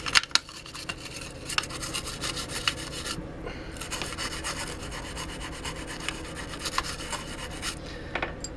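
Steady scratching and rubbing on residue stuck to a Nintendo Game Boy Color part, a close, continuous gritty scraping with brief pauses and small sharper ticks throughout.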